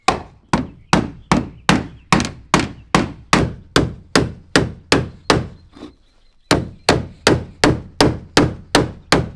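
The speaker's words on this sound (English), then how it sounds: "I'm using a metal mallet directly on the aluminum" Metal mallet striking aluminum sheet laid over a board, about twenty sharp, evenly spaced loud blows in a steady rhythm, with one brief pause before the tapping resumes.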